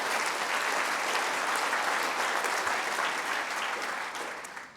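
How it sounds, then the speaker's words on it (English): An audience at a party leadership hustings in Brighton claps in a sustained, dense burst of applause that holds steady, then thins and fades toward the end. "I know you applauded all of them and you really love them"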